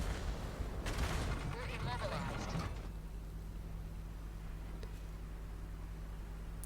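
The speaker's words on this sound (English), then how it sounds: "yeah, there it is, the rocket barrage" Rocket barrage explosions in the World of Tanks video game, a dense, rumbling burst of blasts for under three seconds that then gives way to a steady low engine hum.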